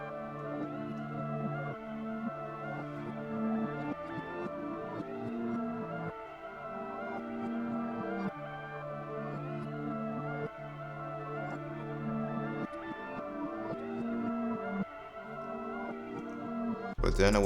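A reversed dark guitar sample made in FL Studio plays alone, sustained swelling chord tones in a slow repeating pattern with no voices.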